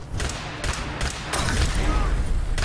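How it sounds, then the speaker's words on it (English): Grenade blasts and gunfire against raiders in Fallout 4 land as a few loud, sharp bursts followed by a heavy rumbling boom that lingers. "Stop lobbing grenades."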